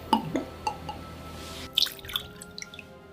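Strega liqueur is poured from an ounce measure into a cocktail already holding pisco, giving a soft close trickle followed by a few light drips and glassy taps.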